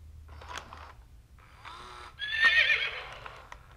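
A horse neighs and whinnies, a short call followed by a longer, louder shrill whinny, heard fairly close against a quiet background with a faint hoof clop.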